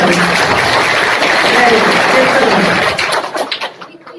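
Loud, close applause from an audience at a school honours ceremony, a thick continuous wash of clapping that holds for about three seconds and then thins out into scattered claps.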